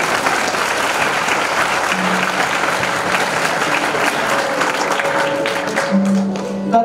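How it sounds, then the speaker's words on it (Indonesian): An audience at a motivational talk for Islamic boarding school students applauds steadily, a dense wash of clapping hands from a crowd, continuing throughout with a faint tone and voices near the end. "Tepuk tangan sekali lagi untuk Ustaz Happy Chandra."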